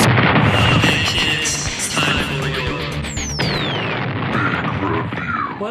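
A loud, cartoonish sound effect from a toy invention skit with action figures plays continuously, a dense crashing burst with mechanical ratcheting and a falling whistle-like sweep, neigh-like squeals mixed in.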